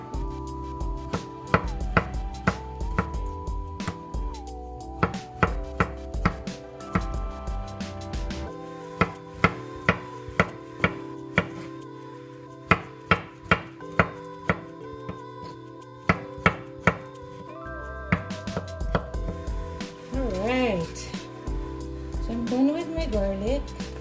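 A knife chopping taro leaves into smaller pieces on a board, with sharp irregular chops in bursts set against a tonal background and light ambient sounds.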